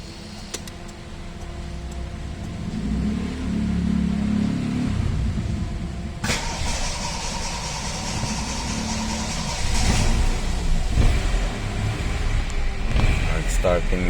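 A worn, misfiring Toyota Corolla BB XL engine cranks and catches, then runs with a rough steady rumble and a rise in revs, close by, with people talking over it.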